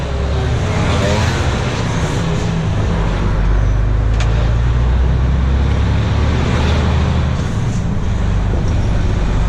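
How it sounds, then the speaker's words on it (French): A large vehicle engine roars loud and close, a dense, continuous rumble that swells slightly as it re-accelerates to release the retarder. "Pour l'enlever, je réaccélère un coup, il s'enlève."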